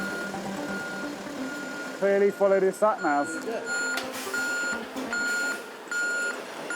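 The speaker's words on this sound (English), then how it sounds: "Woken by the reversing alarm, locals have left their beds to try to help the driver" A recovery truck collecting a broken-down bus backs up at night, its reversing alarm giving a few repeated beeps under a voice on a street, with engine rumble and other beeping beneath.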